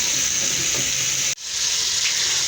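Potatoes and onions sizzle and hiss in a hot pan, a loud, continuous close-up fry that cuts out briefly for a moment before the crackling resumes.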